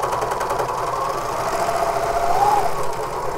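Serger sewing machine running steadily while stitching a seam on a knit moto jacket, a continuous close mechanical whir with a slight rise in pitch near the end, no voices.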